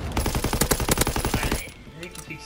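Rapid automatic gunfire in a World War II video game rattles in a fast, loud burst for about a second and a half, then cuts off to quieter background sounds and a faint voice.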